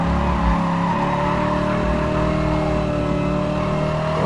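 Race car engine in Gran Turismo Sport, driven with an open differential and H-pattern shifter, drones loudly and steadily throughout with a constant revving tone and no talking.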